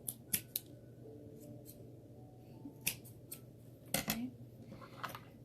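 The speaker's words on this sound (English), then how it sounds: "take a regular size popsicle stick and cut the ends off to where it's a straight stick on both sides" A regular-size wooden popsicle stick gets its ends cut off in a handful of sharp, crisp snaps spread over several seconds, each one close and distinct against a quiet room hum.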